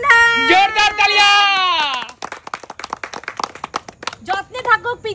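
Clapping for a rakhi tying at a Raksha Bandhan celebration: a short burst of scattered hand claps follows high, excited voices, with people talking over and after it.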